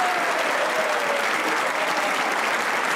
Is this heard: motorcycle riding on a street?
no